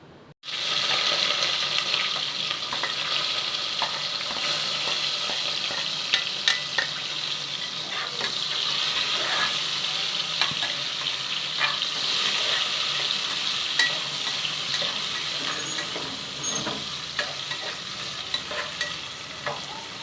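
Onions and green chillies fry with cumin in a pan, a continuous close sizzle with intermittent clicks and scrapes of stirring, lasting throughout with no speech.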